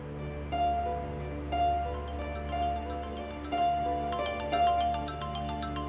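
A mobile phone rings with a repeating electronic melody of bright tones in regular bursts about once a second, heard indoors at moderate loudness over a low steady hum, with no one talking.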